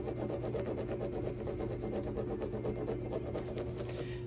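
A crayon rubs back and forth over a textured surface to make a stamp. It gives a continuous close scratchy rasp with rapid repeated strokes and a steady hum underneath.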